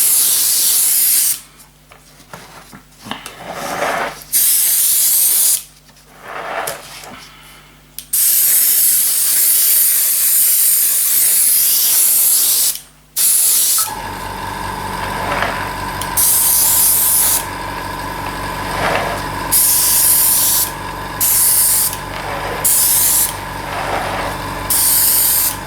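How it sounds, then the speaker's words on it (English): An airbrush sprays VAA matte varnish onto a 7mm Heljan VAA model wagon in loud, hissing bursts that start and stop, giving way to a longer continuous spray with a faint hum. "I've now got some just matte varnish, VAA matte varnish in the airbrush."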